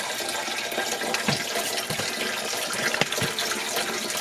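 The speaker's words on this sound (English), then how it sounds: "this is how I fill my water filter" Water pours steadily into a Berkey water filter on a homestead, a continuous close rushing splash lasting about four seconds with no voices.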